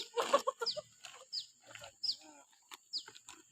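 Chickens cluck in short, repeated bursts across several seconds, fairly close and moderately loud, with small rustles between calls.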